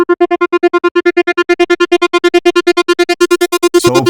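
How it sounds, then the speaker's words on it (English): Synth preset in Phase Plant run through a moving bandpass filter, a fast pulsing stream of rhythmic stabs about eight per second whose timbre subtly shifts, ending in a brief noisy, warbling swirl. "So now I have a bandpass with a filtering that is moving to in the middle."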